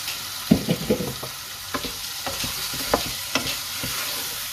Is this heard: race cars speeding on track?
no